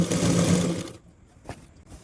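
A sewing machine runs steadily for under a second while stitching a nightdress hem, then stops, leaving a quiet room with a couple of soft handling clicks.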